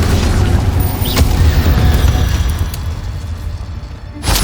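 Incendio fire spell cast in the video game Hogwarts Legacy, a loud, continuous roaring blast with heavy booming low end that holds for about four seconds before cutting off, with no talk over it.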